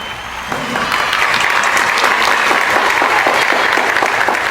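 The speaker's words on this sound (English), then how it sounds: "let's give a big round of applause to the WAFF 48 Storm Team, Chief Meteorologist Brad Travis and Meteorologist Jeff Casper." An audience applauds for a local TV storm team of meteorologists, a dense, loud, continuous burst of clapping that starts abruptly and holds steady with a slight crowd murmur.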